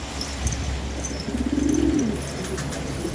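Pet pigeons coo softly during a bath, one low rolling coo standing out in the middle over faint background noise, with no talk.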